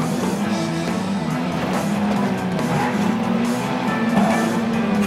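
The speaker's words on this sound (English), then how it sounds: "Do a quick 180 degree spin and you'll be right back on track." Cartoon car in the Disney Infinity 3.0 video game skids through a 180-degree spin, a continuous engine drone with tire squeal and skidding, loud and steady across the whole stretch with no talking.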